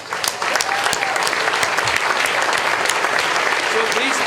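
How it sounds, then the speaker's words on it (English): Loud, sustained audience applause at a Clinton Global Initiative leaders event, dense clapping filling the whole stretch with a few sharper individual claps standing out. "Let's give them a big applause."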